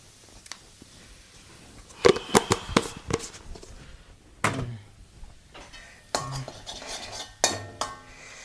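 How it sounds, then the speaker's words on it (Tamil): Pasta is stirred in a pot late at night, with sharp metallic clanks and scrapes of a spoon against the pot in irregular bursts between quiet pauses, heard close and with no talk. "நல்லா கிளறி விட்டுக்கேன்"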